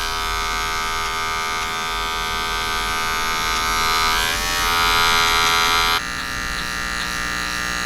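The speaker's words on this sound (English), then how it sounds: "so I'm using a magic clip. I'll go back with the fast feed just to clean it up a little bit." A Wahl Magic Clip hair clipper on fast feed hums and buzzes steadily up close while cleaning up a haircut, its pitch wavering midway as it works through hair before settling back.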